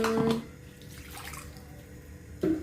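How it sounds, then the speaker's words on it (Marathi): A short splash of water pouring into a mixer jar at the start, followed by quieter clatter and a brief second pour near the end. "सो हा जो मिक्सर आहे याच्यामध्ये मी थोडंसं पाणी ओतते"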